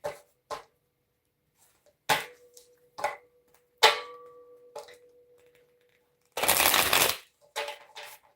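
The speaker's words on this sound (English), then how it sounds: "And y'all just see me shuffling these cards." Tarot cards are shuffled by hand in a series of separate crisp riffles and snaps, with short quiet gaps between them and one longer, louder burst of rapid shuffling near the end.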